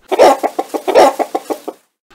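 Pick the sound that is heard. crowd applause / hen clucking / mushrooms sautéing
hen clucking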